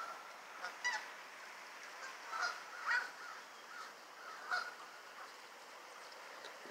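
Geese honk several times at a distance in Central Park, Schenectady, scattered calls spaced a second or two apart over a quiet outdoor background.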